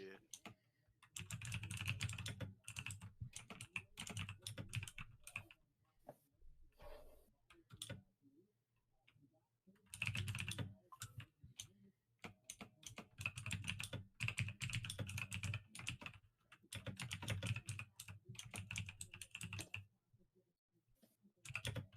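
Computer keyboard typing in bursts of rapid clicks, repeated over about twenty seconds with brief pauses between runs, close and fairly clear during an online Dungeons & Dragons session.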